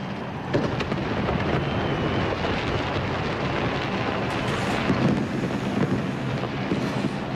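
Millennium fireworks exploding over London at the 2000 celebration, a dense, continuous roar of booms and crackles with a crowd, loud and unbroken throughout.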